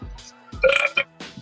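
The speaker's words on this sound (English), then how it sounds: "Zerker got a burp in live on air." A man's burp erupts live on air during a casual streamed chat, a loud, rough eructation of about half a second, followed by a brief second gulp and framed by short bits of talk.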